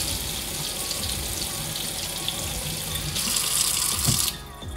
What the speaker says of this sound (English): So I'm actually turning on some water to actually test it out.